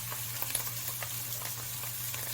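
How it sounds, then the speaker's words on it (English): Garlic frying in oil alongside already oily cooked beef, a steady low sizzle with small crackles and faint stirring scrapes, close and fairly quiet, no voices. "Add garlic and cook it for about a minute."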